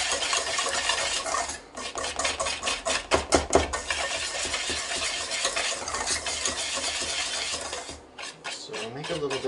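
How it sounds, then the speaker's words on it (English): A spoon stirs cornbread batter in a bowl with steady scraping and swishing strokes, a few louder knocks against the side, close and clear, with no talking. "I'm just going to mix together."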